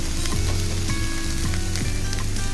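Dry-roasted broken wheat is tipped into a pan of fried vegetables for a khichuri, giving a loud, close, continuous sizzle with a few faint clinks and a steady low hum underneath.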